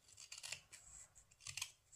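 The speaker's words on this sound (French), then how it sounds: "j'ai pris l'habitude avec les ciseaux à venir" Small scissors snip repeatedly across fabric to trim away pills and lint, a quick series of crisp close cuts in uneven bursts with brief pauses between.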